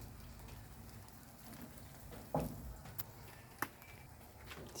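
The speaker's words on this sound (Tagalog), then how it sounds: "Medyo maulan ngayon sa amin." Rain falls in a faint, steady patter with a soft background hiss, broken by a few sharper taps and knocks nearby.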